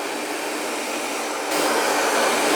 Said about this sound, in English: blow dry everything over to one side like this